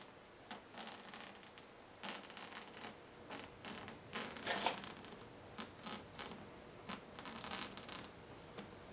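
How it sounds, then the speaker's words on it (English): Old beading being pulled off a Ford F100 seat during upholstery work, a steady run of soft tearing, ripping and rustling sounds with small sharp snaps, close and fairly quiet, with no talking. "I'm going to take this beading off"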